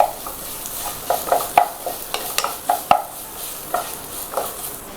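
Chopped tomato sizzles gently in a pan while a spoon stirs it, giving a run of soft clinks and scrapes in an irregular rhythm, close and fairly loud over a low frying hiss.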